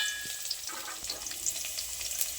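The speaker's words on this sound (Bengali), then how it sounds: "আলুটা ভাজা হচ্ছে" Potatoes frying in a pan give off a steady, close, bright sizzle and hiss, with faint crackles and small spatters scattered throughout and no voices.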